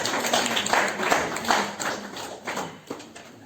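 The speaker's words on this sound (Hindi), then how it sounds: "बहुत तालियों के साथ अभिनंदन और स्वागत।" An audience at an international Hindi gathering in Narnaul applauds to welcome a guest, a loose patter of hand claps in a hall with uneven bursts and a few louder thumps, fairly close and moderately loud.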